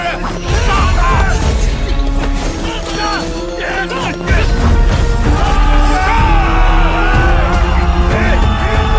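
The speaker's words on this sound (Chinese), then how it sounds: "是有人在惨叫" Someone screams loudly in a fantasy drama fight scene, amid crashes, impacts and dense dramatic sound effects that continue throughout.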